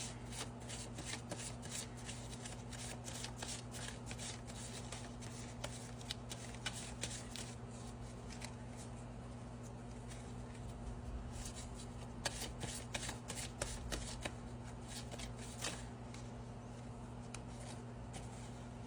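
Tarot cards being shuffled by hand, a steady run of soft riffling bursts and crisp card flicks over a low background hum, close and quiet, with no speech.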